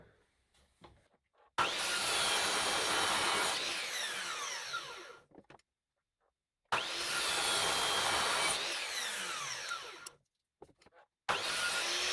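A power saw cuts wood at an angle of about 13 to 14 degrees along a laser guide line, making two loud sustained cutting passes of a few seconds each, separated by quiet pauses, with no talking.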